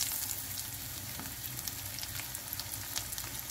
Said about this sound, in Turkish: Evet, yağım kızdı. Şimdi içerisine karnabaharlarımı ekleyeceğim.